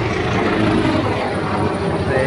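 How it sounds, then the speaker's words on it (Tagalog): A helicopter passes overhead outdoors, a loud, steady rotor and engine roar that fills the whole moment with no letup. "Helicopter na dumaan."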